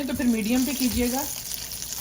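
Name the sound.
coated chicken pieces frying in oil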